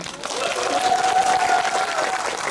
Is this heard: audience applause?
yes